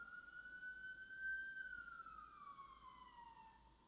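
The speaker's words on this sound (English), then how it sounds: "What is with these damn sirens today?" An emergency vehicle siren wails outside, one long faint tone that rises slightly, holds, then sinks slowly. It sounds distant and muffled, with a low background rumble and no speech.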